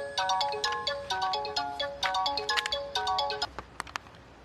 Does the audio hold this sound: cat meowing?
no